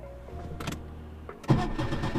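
Opel Calibra car engine cranking briefly, then catching and starting up into a rough idle, heard from nearby at moderate volume.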